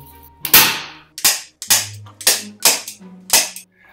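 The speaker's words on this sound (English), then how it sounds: "Nobody use a staple gun after me." Six sharp staple gun shots fire one after another at a steady pace of about one every half second, each a loud close crack with a short decay, with no talk.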